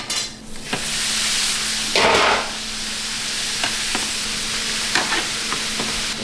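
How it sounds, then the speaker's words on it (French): Shallots and meat sizzle steadily on a hot flat cooking plate for pâté en croûte, with brief stirring scrapes and one louder burst of frying near the middle, close and continuous. "Donc on fait dorer les échalotes, on ne les fait pas colorer."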